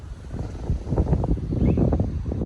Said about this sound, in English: It's very cloudy, very windy.